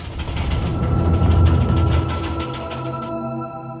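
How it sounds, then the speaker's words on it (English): A bombe code-breaking machine rattles with dense mechanical clatter over a low rumble, loud and close. The noise thins out and stops near the end, leaving a fading hum. "The rattling of the machine continued"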